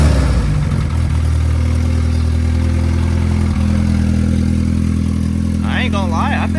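A turbocharged Honda Civic engine running steadily nearby, a loud, continuous mid-pitched drone with a faint mechanical clatter, and a brief burst of other noise near the end.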